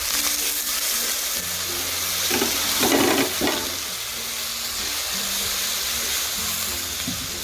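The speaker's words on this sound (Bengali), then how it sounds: "এই পর্যায়ে দিয়ে দিচ্ছি ঝোলের জন্য জল।" Water pours into a sizzling pan of Bengali jhinge-aloo bora curry, a loud burst of hissing steam and frying rising briefly over a steady sizzle, close up with no talk.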